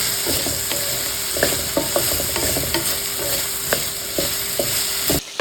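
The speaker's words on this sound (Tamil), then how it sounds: "லைட்டாக உப்பு போட்டு வதக்கிக்கலாம்" Okra sautéing with salt in a hot pan, a constant crackling sizzle broken by sharp scrapes and taps of a spatula, up close, ending abruptly.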